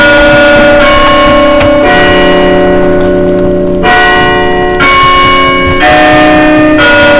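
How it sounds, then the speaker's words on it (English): A warning bell rings in loud, sustained, overlapping strikes roughly once a second, each tone ringing on and blending with the next. "I don't know if it's the warning bell or not."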